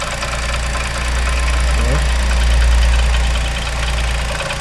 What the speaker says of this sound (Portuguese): Um barulhinho, então um barulho mesmo diferente aí, ó. É com a tampa batendo em alguma coisa.